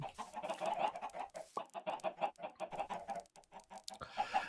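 Chickens cluck in a video game chicken farm, a busy run of short, repeated clucks and murmurs at low volume, steady and close with no talk over it.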